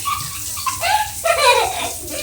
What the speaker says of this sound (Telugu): షవర్లో నీళ్ళు పైన పడతాయి